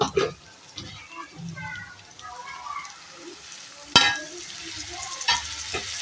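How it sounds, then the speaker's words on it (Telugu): Tomatoes go into a pan of brinjal curry and are stirred as they fry, with a soft sizzle, a few faint scrapes and one sharp clatter of the spoon against the pan. "ఇప్పుడు టమోటాలు వేసుకుందాము"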